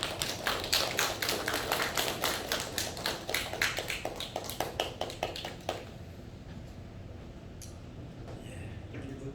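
Church congregation at a Sunday worship service applauding, a dense run of sharp claps that is loud at first, then stops abruptly about six seconds in, leaving quiet room tone.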